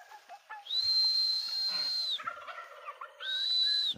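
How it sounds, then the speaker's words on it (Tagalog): Broad breasted turkeys gobble in two loud, sustained whistling bursts a few feet away, with quieter clucks and fowl chatter between them. "Tingnan natin dito yung ating mga pabo."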